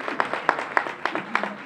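Audience at a French song contest for teens in Tuffé applauding, a short burst of scattered rhythmic hand claps from a small crowd, moderately loud.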